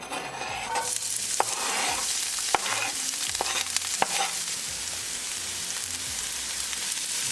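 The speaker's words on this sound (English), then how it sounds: "Mix it and saute it like a minute or so." Onion, ginger and green chili sauté in olive oil in a pan for chicken and egg bhurji, a steady close sizzle with a spoon scraping and stirring through it, sharp clicks of the utensil against the pan, no voices.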